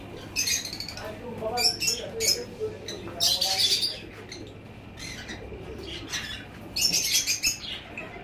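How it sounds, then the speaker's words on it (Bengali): Cockatiels in a rooftop bird farm flap their wings and call nearby, with irregular bursts of sharp squawks and chirps and brief wing flutters between quieter gaps. "এখানেও কিছু কোকাটেল আছে।"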